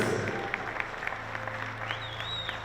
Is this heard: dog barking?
no